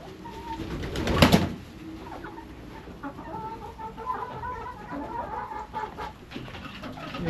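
Point-of-lay hybrid hens clucking and cooing inside a stable, a flock of soft overlapping calls with one louder squawk early on, moderately close.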